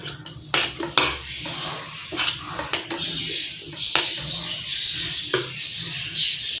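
A metal dosa griddle being set down on a stove, with sharp clanks and scrapes of metal cookware, several knocks in the first few seconds followed by a steadier rattling hiss, close and fairly loud.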